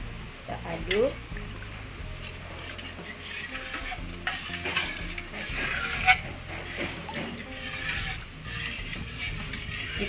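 Blended spice paste and coconut milk stirred in a pan for Acehnese duck egg curry, a steady scraping, bubbling sizzle close by with background music throughout.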